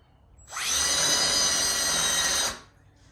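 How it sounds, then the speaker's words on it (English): A power drill bores through wood, whirring steadily for about two seconds, close and loud, starting and stopping abruptly. "we're just going to drill a hole right here"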